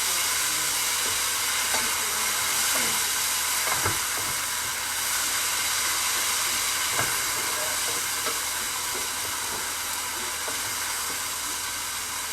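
Onions cooking over medium heat in a pan for marinara sauce, giving a steady broadband sizzle and hiss with occasional faint clicks and bumps, continuous and close, with no talking.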